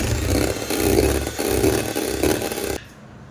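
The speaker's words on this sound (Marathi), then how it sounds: "आपल्याला सॉफ्टली पीक आले पाहिजेत अशी बीट ही करायची आहे." An electric beater whipping cream to soft peaks, a continuous close motor whir with a pulsing rhythm as the beaters churn, stopping abruptly just before the end with no talking.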